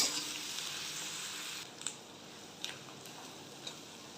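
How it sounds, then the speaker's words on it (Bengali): Onion fries in a pan with a steady, faint hiss of sizzling. A few soft ticks and clicks from the pan break through the hiss near the end, and no one speaks. "তাহলে চলুন পেঁয়াজটা ভালো করে ভেজে নিই"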